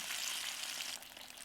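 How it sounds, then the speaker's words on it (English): Steady, crackling sizzle of apple fritters frying in hot oil, water from the apple sizzling, close and continuous with no voices. "you can hear the sizzling of water from apple"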